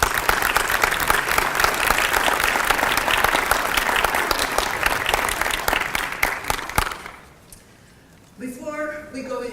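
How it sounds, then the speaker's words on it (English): Educators at a state STEM awards ceremony receive a loud, sustained round of applause from the room for about seven seconds, then it cuts off into near silence before a voice begins speaking. "I want to give every educator in the room a round of applause."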